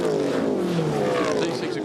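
Touring car engines at Queensland Raceway during a 2013 Touring Car Masters race roar past, a loud howling drone with falling pitch sweeps as the cars pass, partly under commentary.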